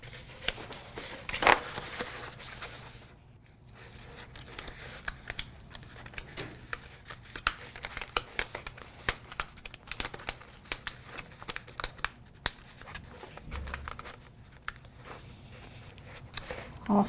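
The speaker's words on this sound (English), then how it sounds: "I'm going to use that same hinge method to apply my transfer tape." Vinyl transfer tape is laid over a cut design using the hinge method, giving soft, intermittent crinkling and crackling with light taps, close and quiet.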